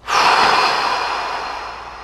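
A long, deep exhale during a guided breathing exercise, a single breath that swells quickly and trails off slowly, close and clear.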